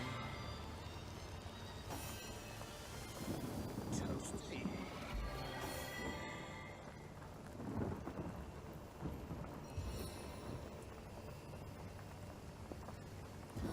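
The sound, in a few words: rain and thunder from a rain spell in Divinity Original Sin video game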